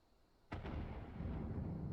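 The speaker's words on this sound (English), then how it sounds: "Cannon fire!" A single cannon shot booms out in a Final Fantasy XIV scene, a sudden deep blast at half a second that leaves a long, rumbling low roar after it, with no voices.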